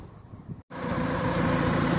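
A Honda-swapped Daihatsu Charade engine idles steadily and close by, a continuous low rumble that drops out for a split second early on, then returns slightly fuller and holds evenly to the end.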